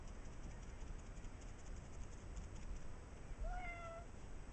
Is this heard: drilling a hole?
no